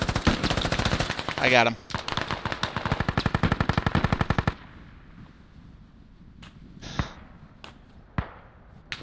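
Rapid automatic gunfire in a video game, a loud sustained burst of closely spaced shots for about four seconds, followed by a quieter stretch with a few isolated sharp reports; someone speaks briefly.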